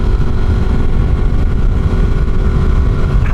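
A Yamaha R1 sport motorcycle with an aftermarket windscreen is ridden along a road, its engine a loud, continuous low rumble blended with heavy wind buffeting throughout.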